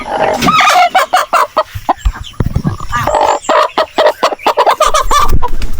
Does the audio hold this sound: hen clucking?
yes